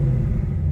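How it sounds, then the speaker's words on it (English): A Whipple-supercharged race truck engine gives a steady, deep low rumble, close and continuous through the short moment, with no voices. "when I get in the car, I'm going to hear a rumble. I'm going to hear the rumble."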